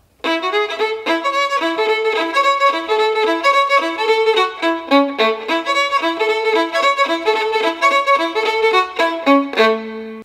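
A violin is played at performance tempo over accompaniment during a violin lesson, with sharply accented bowed notes in a brisk, steady rhythm that is clear and close, with no talking.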